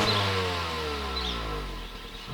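Stock exhaust on a Suzuki Swift Sport rises in a smooth rev and then falls away, a soft buzzy tone heard close by and alone.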